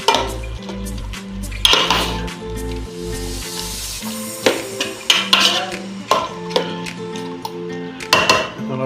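Meat being stirred in a metal cooking pot, with spoon clanks and scrapes in repeated bursts over a soft sizzle and a steady tonal hum in the background.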